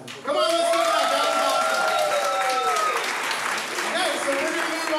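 A crowd at a Saturday-night fight event cheers and claps loudly for the team Manacle. The applause is dense and sustained, with shouts and whoops on top of it and voices calling out over the noise.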